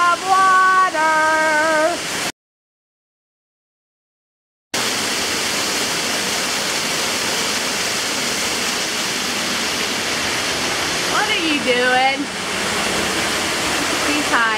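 Water pours loudly and continuously from a waterfall at Disney World as a steady broadband rush, broken by a short silent gap, while people talk nearby over it.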